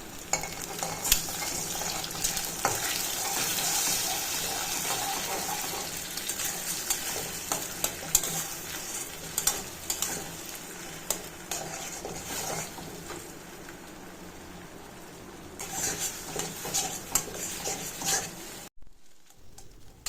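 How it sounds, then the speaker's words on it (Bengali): Eggs fry in a wok for egg bhujia with a steady close sizzle, while a spatula stirs and scrapes them in frequent light taps and scratches. The frying stops abruptly near the end. "এবার ডিমগুলোকে নেড়ে নেড়ে আমি ডিমের ভুজিয়া বানাবো।"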